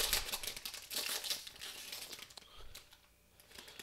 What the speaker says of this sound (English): So we'll open these up. We will slide the cards out.